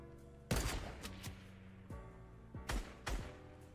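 Sniper rifle shots in a video game ring out as several loud, sharp cracks with booming tails, spaced irregularly over a few seconds against faint game ambience.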